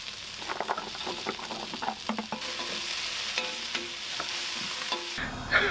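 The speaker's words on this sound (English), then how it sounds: "Now I've started cooking my carrots in the pot with the onion and celery." Chopped carrots, onion and celery cooking in a pot, with a steady sizzle under repeated stirring and scraping clatter and a few sharper clicks, close by and fairly loud.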